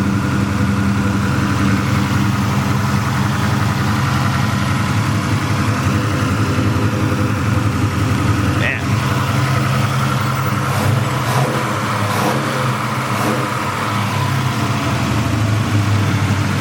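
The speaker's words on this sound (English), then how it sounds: "Yeah, they rev beautifully, the stroker motors." A 1968 Chevrolet Chevelle SS with a 383 stroker engine and TKO 600 five-speed idles loudly and steadily throughout, with a deep, continuous rumble and a brief voice near the middle.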